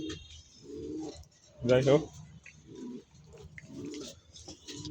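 Domestic pigeons in a home loft cooing in repeated low throaty phrases close by, with a louder burst of cooing near the middle, while someone speaks briefly.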